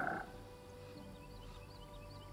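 Frogs croaking in the game Pathfinder: Kingmaker, a short burst of croaking at the very start, then a faint ambient hum with soft chirps.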